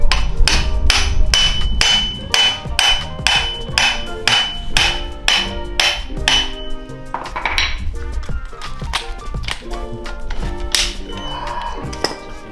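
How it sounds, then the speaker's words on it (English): Sharp metallic hammer blows ring out in a fast, regular series, striking an adjustable axle puller fitted to a rear differential axle, then slow to a few scattered knocks near the end. "this is like an adjustable axle puller"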